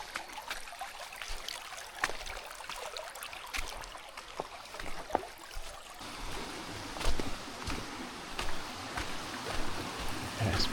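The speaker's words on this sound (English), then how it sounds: "Creek crossing here." A creek runs over rocks at a low trail crossing in Red River Gorge, Kentucky, with a soft steady trickle and burble and scattered faint clicks and knocks nearby.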